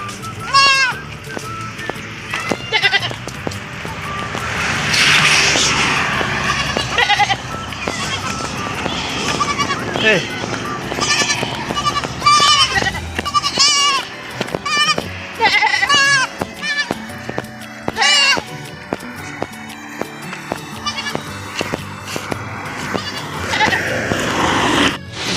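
Goats, including a small kid, bleat repeatedly beside a highway in grassy roadside ground, with loud, close calls overlapping throughout and a person talking intermittently.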